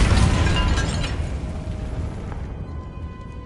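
A Confringo blasting spell goes off in a short animated piece, a single loud booming blast that rumbles and then fades into a quieter tail with no voices over it.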